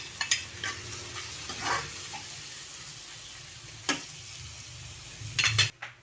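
Miso stirred into a simmering pot of sinigang with bangus: soft steady bubbling and a low hiss, broken by scattered clinks of a utensil against the pot and a brief clatter near the end, with no voices.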